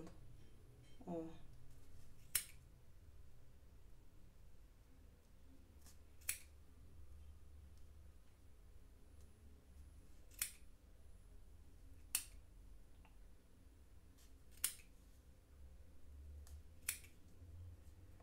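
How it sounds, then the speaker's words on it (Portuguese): Scissors snip crocheted yarn on an amigurumi snowman napkin holder: about six sharp, quiet clicks spaced a few seconds apart over a low, steady room hum. "Vem com a tesoura aqui no meio e vai cortando."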